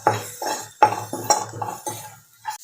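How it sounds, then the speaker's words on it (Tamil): A spoon stirs and scrapes onions and ground spices in oil in a cooking pan for mushroom masala, giving several soft, irregular clinks and scrapes close by with no talk. "நல்லா எல்லாத்தையும் இந்த எண்ணெயோட ஆனியனோட மிக்ஸ் பண்ணிக்கோங்க"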